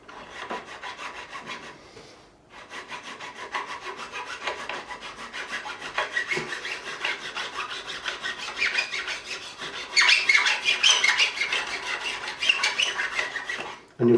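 A metal file rasps steadily across the fret ends of a 1989 Fender Stratocaster Plus during a refret, bevelling the edges in continuous close scraping strokes with a short pause early on.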